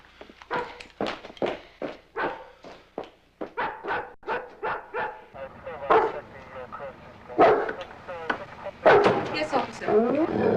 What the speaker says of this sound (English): Your dog is creating a disturbance.